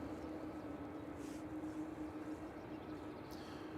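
TUI airliner taxiing at Manchester Airport, a faint distant jet engine drone with a steady hum, low and continuous throughout.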